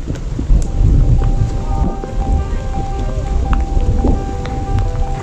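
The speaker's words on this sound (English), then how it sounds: "stop causing thunder" Steady, dense rain on a hike at Angel Rocks in Alaska, with a low rumble of thunder under the downpour throughout.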